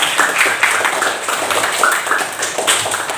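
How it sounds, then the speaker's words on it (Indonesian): Children in a primary school classroom clap together after their teacher's prompt, a dense, steady patter of small hands close by that keeps going for a few seconds. "Beri tepuk tangan."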